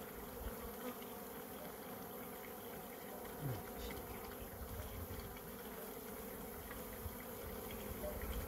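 Dense, steady buzzing of many honey bees during a spring hive inspection, with Chinese copies of Flow Hive super frames, a continuous close drone with no talking.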